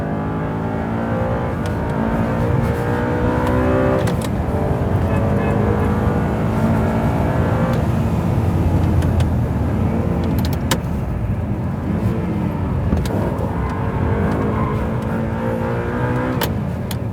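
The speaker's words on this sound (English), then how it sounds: "We tried to drift, kids, but it doesn't like it." An Audi R8 accelerating hard with the throttle held wide open while attempting a drift, its engine note rising and falling loudly and continuously up close for the whole stretch, with no voices.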